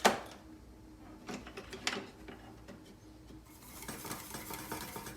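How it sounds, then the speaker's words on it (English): Lemon tart custard stirred constantly in a pan over a medium-low flame, giving soft scraping and occasional clinks of the utensil against the pan, fairly faint and steady with no talking. "we've been stirring constantly, getting the edges"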